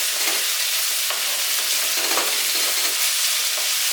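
A handful of garlic sizzles steadily in a hot pan, with bursts of stirring scraping through the continuous frying noise, close and fairly loud.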